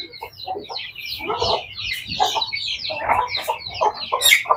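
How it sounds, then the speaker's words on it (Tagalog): A flock of Rhode Island Red chickens at feeding time clucks and chatters busily up close. The overlapping calls are constant and build slightly louder toward the end. "magpapakain na si Arnick ng ating bagong stock na Rhode Island Red"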